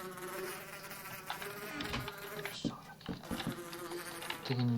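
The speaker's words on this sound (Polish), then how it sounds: "nie lubię tych pszczół." Bees in a video game buzz close and loud in a thin, whining drone, mixed with scattered clicks and thumps from play around them.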